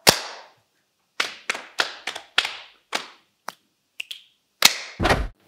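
Body percussion in a music and movement lesson: sharp hand claps and finger snaps in separated bursts, starting with one loud hit, then an uneven rhythmic run of crisp close strikes with pauses between.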